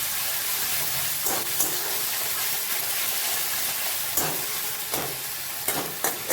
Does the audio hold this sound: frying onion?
yes